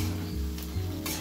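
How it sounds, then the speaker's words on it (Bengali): Marinade masala with onions fries in a pan, a soft continuous sizzle beneath a low steady hum, with brief bursts of louder hiss near the end and no speech. "এক্সট্রা ম্যারিনেটের মশলাটা আমি দিয়ে ভালো করে কষে নিচ্ছি।"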